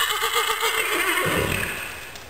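A curious mare gives a loud, close whinny, a wavering neigh that rises and then trails off over about two seconds with no talking.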